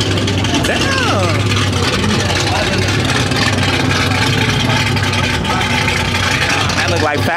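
An LS V8 car engine at an outdoor car show roars steadily and loud, with a rising rev sweep near the start, while people talk over it.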